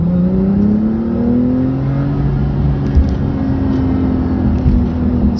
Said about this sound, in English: what this sport response button does is actually give the vehicle everything it's got in an instant, like this